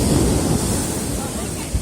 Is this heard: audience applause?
no